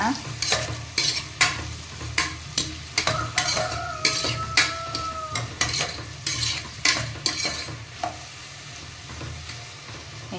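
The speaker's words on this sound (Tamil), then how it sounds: "வெங்காயம் கட் பண்ணி வச்சுருக்கேன் அது போட்டுக்கலாம் அது பார்த்துட்டு வதக்கிட்டு இருக்கட்டுங்க" Chopped onions sautéing in ghee and butter for vegetable biryani, a steady close sizzle broken by repeated scraping stirs of a spoon against the pan, with no one talking.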